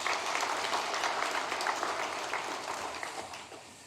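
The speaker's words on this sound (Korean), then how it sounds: "우리 박수하겠습니다." A church congregation at a Korean Sunday service claps in sustained, dense applause to welcome visiting elders, tapering off gradually at the end.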